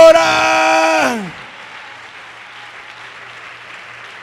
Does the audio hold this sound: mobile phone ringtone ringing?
no